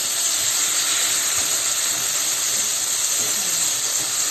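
Tofu fries in a pan until brown, for bitter gourd (ampalaya) fritters: a steady, loud sizzling hiss runs unbroken the whole time with no talk.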